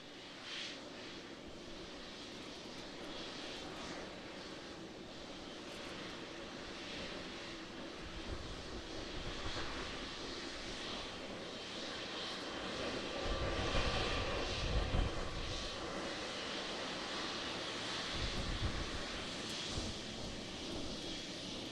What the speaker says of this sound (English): So very short landing there with the 777-300.